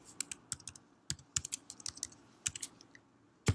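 Keys clatter on a computer keyboard as a username and password are typed at a login page, a quiet, close run of irregular clicks in short bursts with brief pauses and one louder tap at the end.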